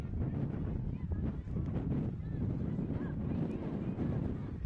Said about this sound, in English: Boy, it is windy today